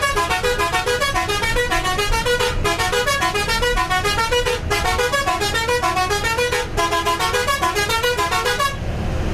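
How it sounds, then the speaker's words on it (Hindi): A Meena Express bus sounds its loud musical horn, a rapid repeating multi-tone melody that plays in four bursts with brief gaps, close and dominant over the engine hum. "रफीक भाई एक ज़रा बस का हॉर्न ज़बरदस्त वाला हॉर्न बजाओ"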